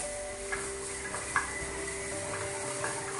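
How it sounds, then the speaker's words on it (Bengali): A spoon stirs a soap mixture with orange peel powder in a pot, giving faint scraping taps at an uneven rhythm over a low steady hum. "কমলার খোসার পাউডার দেওয়ার পর এই মিশ্রণটিকে খুব ভালো করে মিশিয়ে নিতে হবে"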